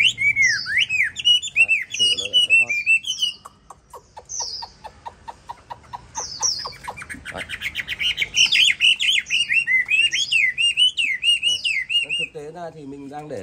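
A hwamei songbird in a cage, still not fully tame, sings loud, close and alone: long varied phrases of clear whistles, rapid trills and repeated chirps without a break.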